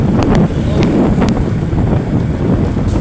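Powerful typhoon wind roars loudly and without pause, a dense rumbling blast with a few sharp knocks early on.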